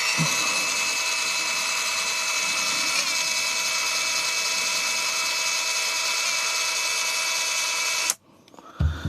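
A Tanzu TZ-S-600 impact driver runs in first gear at its slowest speed of about 598 RPM, giving a steady, close motor whine that cuts off abruptly near the end.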